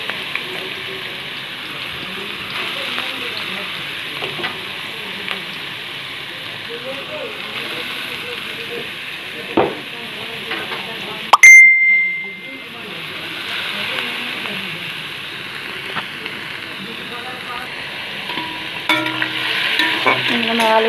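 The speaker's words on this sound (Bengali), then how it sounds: "সেই আলুগুলো তেলের মধ্যে দিয়ে দেব।" Potato pieces dropped into hot oil with bay leaves in a wok, a loud, close, continuous sizzle that breaks off briefly partway through with a sharp clatter, then resumes, with a voice faintly underneath.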